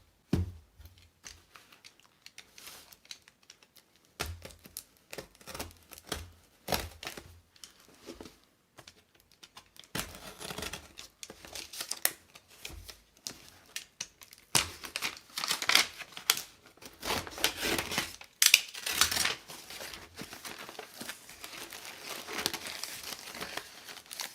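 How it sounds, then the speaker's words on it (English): A first class mail package with warning stickers is opened at close range: irregular crinkling, tearing and rustling of paper and plastic, sparse at first and then busier and louder toward the end. "let's go ahead and open the first class mail with all of the additional warning stickers"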